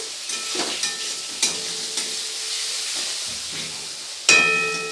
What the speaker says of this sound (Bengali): পেঁয়াজের সাথে খুব ভালো করে ভেজে নিচ্ছি।